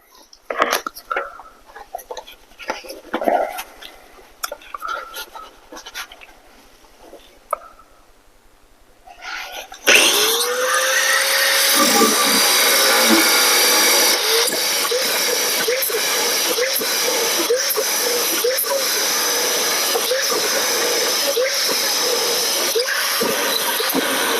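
A power tool cuts 2.5-inch strips from steel plate for brackets. Scattered light knocks and shuffling give way to a sudden, loud, sustained grinding whine with faint ringing that continues to the end.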